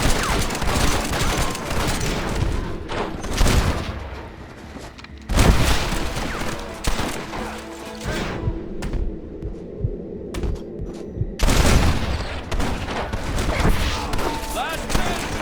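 Dense bursts of gunfire and booming blasts erupt in Red Dead Redemption, volleys of rapid shots stacking into loud fusillades that break off into quieter gaps before resuming, with shouted voices over the fighting.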